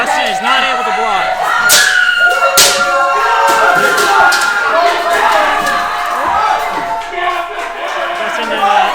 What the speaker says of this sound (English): The crowd here is so loud.